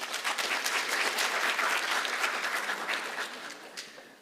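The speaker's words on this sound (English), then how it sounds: "a round of applause for him, please" Audience applause at the UNESCO Africa Engineering Week session as a panel member is called to the stage, steady clapping from a sizable crowd that slowly fades toward the end.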